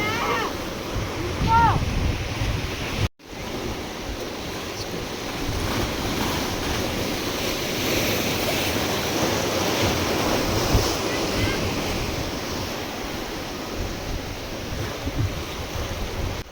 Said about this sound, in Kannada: ಸಮುದ್ರದಲ್ಲಿ ಅಲೆಗಳ ಸೌಂಡ್ ಕೇಳಿಸ್ತಾ ಇದ್ರೆ